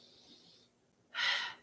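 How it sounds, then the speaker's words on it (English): Loud, forceful breath during a Pilates core exercise: a soft, faint breath first, then after a short pause one sharp, strong breath that lasts about a third of a second. "Now I'm being really loud in my breathing"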